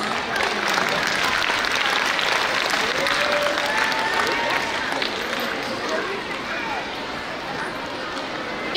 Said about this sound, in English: Audience, please give a big round of applause.